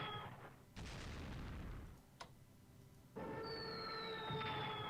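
A Stuka dive bomber attack in the Strategic Command WWII strategy game: a whooshing blast, a short sharp crack, then a droning, descending engine whine with tonal screaming.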